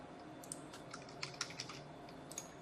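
Soft, sparse keystrokes on a computer keyboard as text is typed, faint and irregular over a low background hum, with no speech.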